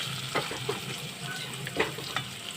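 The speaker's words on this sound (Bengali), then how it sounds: "এবার আমি একটু নেড়ে নেব।" Potatoes frying with salt and turmeric are stirred in a pan: a soft continuous sizzle with a few light spatula taps and scrapes spaced apart, and no voices.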